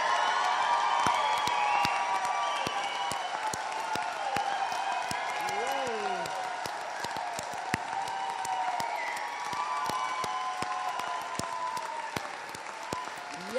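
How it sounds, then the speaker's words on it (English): A standing audience gives loud, rousing applause with scattered cheers and whoops at the close of a tribute event, the clapping steady and full throughout, mixed with some voices. "give a rousing applause, a round of rousing applause for Kate Millett"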